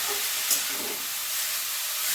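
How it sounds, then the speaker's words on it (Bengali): Carrots frying in ghee in a wok make a steady, close sizzle with a hissing crackle that holds evenly for about two seconds, then cuts off abruptly, with no talking. "গাজরগুলো দিয়ে ভালো করে আমি এটাকে ভেজে নেব"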